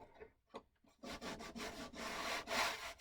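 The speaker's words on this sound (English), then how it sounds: "I'll kind of just sand down the seam" Sandpaper worked over a seam: a few short scrubbing strokes, then steady, continuous rasping rubs, close and fairly quiet, with no talking.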